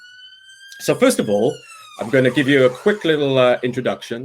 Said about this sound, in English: Sorry about the siren there. I live right next to a hospital.